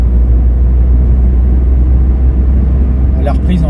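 Steady, loud low drone of a 2017 Renault Clio IV 0.9 TCe 90 three-cylinder engine pulling in fifth gear, heard from inside the cabin as an even rumble with a brief faint chirp near the end.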